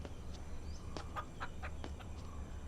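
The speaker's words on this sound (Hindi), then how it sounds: "नहीं सर, ये तो मुर्गा है।" A rooster clucks in a short series of sharp, irregular calls, moderately close over a low rumbling background, with no voices.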